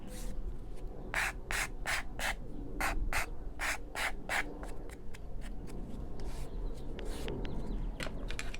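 A tool scrapes hard across a surface while a ladybug quilted frame is being made, giving repeated brisk rasping strokes in a steady rhythm, close and fairly quiet.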